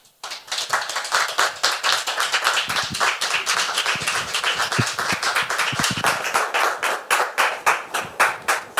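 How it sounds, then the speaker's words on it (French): Audience applause welcoming a guest onto a French studio stage: steady, dense clapping close by, with individual hand claps sharpening toward the end, no talk. "je voudrais qu'on la reçoive, s'il vous plaît, sur vos applaudissements"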